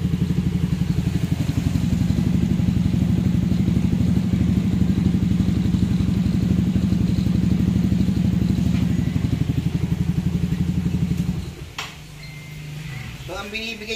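A motorcycle engine idles close by in a steady, even putter for several seconds, then the rhythm cuts off and gives way to handling noises.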